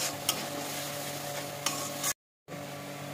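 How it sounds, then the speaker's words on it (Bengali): Masala with turmeric and salt frying in a pan for prawn and potato curry, a steady close sizzle with a few sharp spoon scrapes as it is stirred, cutting out briefly before resuming. "এবার মশলাটা কষাবো।"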